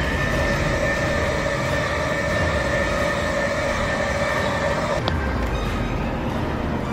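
A high-speed electric train, the Red Komodo EMU on the Bandung–Jakarta line, rushes past with a steady, loud roar and a sustained tonal hum, the sound unbroken throughout.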